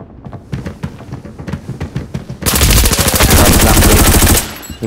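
Rapid automatic gunfire in a shooter video game, first spaced bursts of sharp shots, then a loud sustained stream of fire for about two seconds before cutting off.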